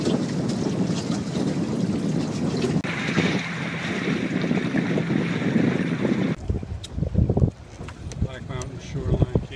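Strong wind buffets the microphone on a sailboat heading home on Lake George, a constant roaring rush over water. It cuts out abruptly near the end as a voice comes in close.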